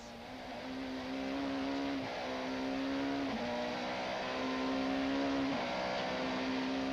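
Super touring race cars, an Opel Vectra and a Ford Mondeo, battling at a 1995 South African championship round at Aldo Scribante, engines droning loudly with repeated gear-shift dips as they accelerate, no talk.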